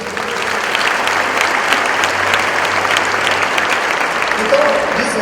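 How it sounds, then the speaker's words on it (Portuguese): A church congregation at a Sunday service breaks into applause, steady dense clapping from a large crowd lasting several seconds, with scattered voices and a faint tone under it. "Dá um aplauso a Jesus."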